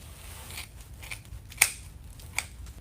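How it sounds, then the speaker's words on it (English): Scissors snip through deco mesh for a wreath, with a few faint cuts followed by one sharp, close snip and a smaller one after it. Quiet otherwise, with no speech. "we're gonna go ahead and cut this off right here"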